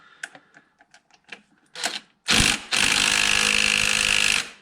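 On a wrecked Audi TT, a power gun attacks a tight bolt. After light clicks and knocks, a loud close burst of motor whine and rattling hammering starts and then runs steadily to the end.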